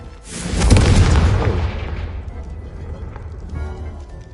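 A Confringo blast spell goes off in Hogwarts Legacy, one loud booming explosion that swells, rumbles and slowly fades over a few seconds, with a faint voice in the background.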